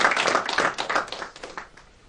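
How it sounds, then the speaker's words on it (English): An audience claps at a book launch for a work on India's presidential system. The applause is moderately loud at first, then thins and fades over about two seconds. "So please give them a round of applause."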